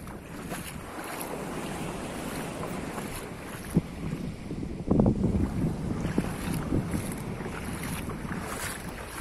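A small boat on a little river near a sandy beach at Giannitsochori, Zacharo, with steady wind buffeting the microphone, a soft wash of water, and a couple of brief knocks and splashes midway.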